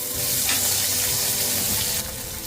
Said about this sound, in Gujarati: ત્યારબાદ તેમાં આદુ અને મરચાંની પેસ્ટ નાખીશું।